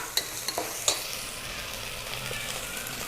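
Ginger garlic paste sautés in a pan for mutton head gravy, a low steady sizzle with a few sharp clinks and scrapes of a stirring utensil early on, then a quieter even fry, no speech.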